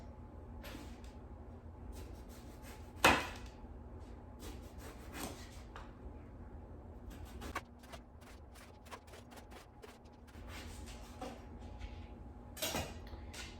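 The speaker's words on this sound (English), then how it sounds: "So the first step would be to slice the eggplant into thin slices" A knife slices a washed, unpeeled eggplant into thin slices on a cutting board, making a series of soft, close cuts with sharper taps as the blade meets the board, with quiet pauses between strokes.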